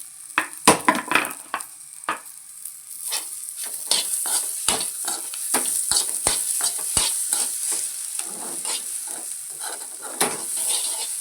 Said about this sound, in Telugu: ఇందులో లిటిల్ క్యారెట్ ఆనియన్ పచ్చిమిర్చి వేసి బాగా ఫ్రై చేయాలి